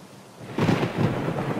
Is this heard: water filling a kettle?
no